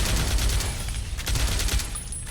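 Automated turrets firing in Fallout New Vegas, a dense, fast burst of gunfire with rapid repeated shots throughout, loud and continuous, no talking over it.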